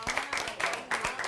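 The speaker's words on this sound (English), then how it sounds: "Give Sydney a round of applause." Applause from a game-show audience at a championship round, a short burst of scattered claps with uneven rhythm, fairly near, lasting just over a second.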